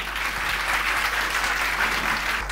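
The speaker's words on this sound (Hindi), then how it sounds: "ये बात समझ में आई तो ताली जरूर बजाइएगा" An audience at a religious discourse gathering breaks into steady, dense applause, a continuous wash of many hands clapping at moderate distance throughout, with no voices over it.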